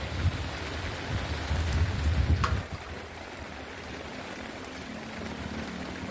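Rain falls steadily in a continuous hiss, heavier at first with a low rumbling texture and then settling into an even, moderate patter.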